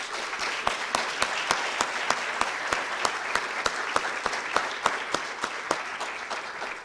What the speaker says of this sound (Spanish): a los que pido un gran aplauso